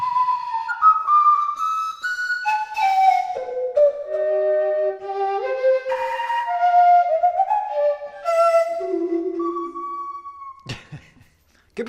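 A flute from a collection of thousands of playable flutes plays a wandering solo melody of clear, breathy sustained notes, moving up and down in pitch, close and alone with no talking, ending with a few sharp clicks.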